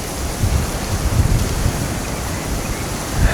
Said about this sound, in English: Every time we come here, it's windy.